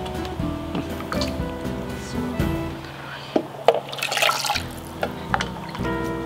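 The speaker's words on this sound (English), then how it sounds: "Now I will add the water of the lamb to my yogurt." Lamb broth pours and splashes into a container of yogurt in short bursts, with wet dribbles and a few clinks nearby; no talking over it.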